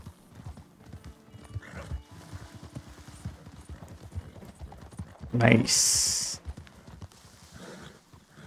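A legendary white horse in Red Dead Redemption 2 clip-clops with steady hoofbeats, then gives one loud, close neigh partway through, while someone talks over it.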